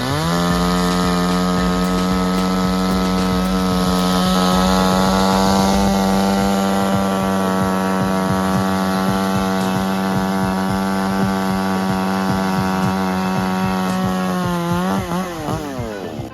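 A chainsaw cuts into a fallen tree, its engine holding a steady, loud, high buzz without a break for about fifteen seconds before it eases off at the end.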